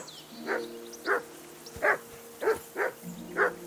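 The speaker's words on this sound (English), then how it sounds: "that barking's driving me nuts!" A dog barks six times in a steady, evenly spaced series in the video game Kingdom Come: Deliverance II, each bark sharp and fairly close over a low droning background.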